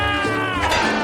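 A kitten gives one drawn-out, close meow with a bright, wavering tone over a dense layer of background sound.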